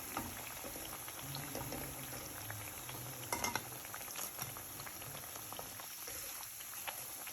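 Bread pieces frying in hot oil for a crispy snack, producing a soft, continuous bubbling sizzle with a few sharper clicks and crackles in the middle, fairly quiet and close.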